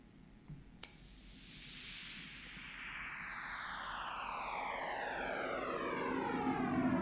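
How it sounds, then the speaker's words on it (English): A sonification of the early universe's sound waves plays as a continuous roaring noise with layered tones sliding steadily downward in pitch, slowly growing louder over several seconds, after a couple of faint clicks. "it's the noise of just how those compressions stretch as the universe grows"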